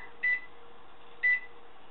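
Two short electronic beeps about a second apart from an oven timer set for a 20-minute bake of muffins at 400 degrees, quiet against a steady low room hum with no talk.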